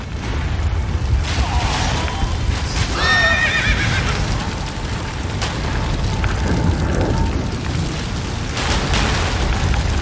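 A horse whinnies loudly in the middle of gameplay from The Witcher 3: The Wild Hunt, with hooves clopping and a dense rumbling backdrop of action sounds throughout.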